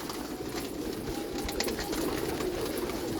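Pigeons on a rooftop in Sialkot coo softly against a constant outdoor hiss, the low burbling calls blending into steady ambient noise.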